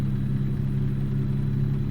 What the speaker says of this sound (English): let's let the truck get back up to speed. Of course, I'm throwing fuel out the back by accelerating up a hill.